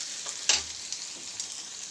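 Potatoes cooking in oil under a lid in a covered pan give a faint, steady hiss with a few soft clicks and one brief low thump near the start, with no voices.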